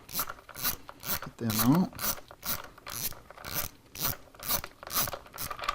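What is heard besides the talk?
ratchet removing breather bolts with 7/16 socket, Harley Davidson FLTRX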